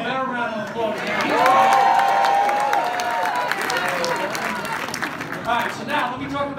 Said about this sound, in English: Give him a better round of applause.